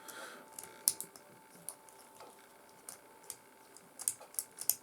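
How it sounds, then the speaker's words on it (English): An X-Acto knife is twisted by hand to bore a hole into a small miniature base, giving sparse, quiet close-up clicks and light scrapes spread through an otherwise hushed room. "I'm just going to use my X-Acto knife to drill a hole"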